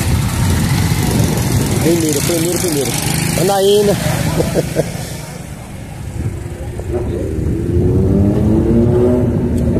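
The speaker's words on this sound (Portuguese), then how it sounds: "Passar aqui as motos, deixa eu passar as motos" Motorcycles pass through a traditional street market in Desterro, Paraíba, engines rumbling and revving nearby amid the general market bustle, while someone talks over the noise.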